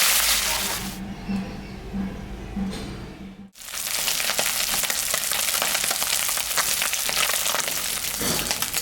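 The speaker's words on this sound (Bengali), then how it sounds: "মাছটা এখন আমি মাখায় নিয়ে মাছটা ভাজবো" Small fish frying in hot oil in a pan, seasoned with salt and turmeric, producing a loud, steady crackling sizzle that starts after a brief pause and continues unbroken throughout.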